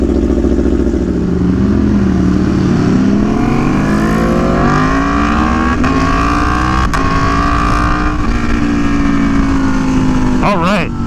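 An Aprilia Tuono V4 1100 Factory motorcycle's V4 engine cold-starts and holds a loud, close, rumbling high idle that slowly rises and dips in pitch, with a few quick blips of the throttle near the end.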